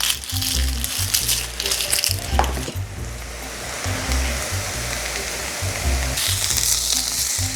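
Garlic, onions and peppers sizzle steadily in a hot pan, a loud continuous frying hiss with a faint rhythmic low thumping underneath and brief stirring clatter, no voices.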